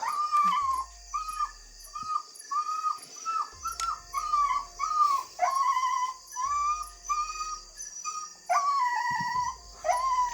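A dog whines in repeated high, wavering cries, some drawn out like soft howls, over quiet low background noise.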